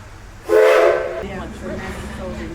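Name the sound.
steam whistle of Edison locomotive train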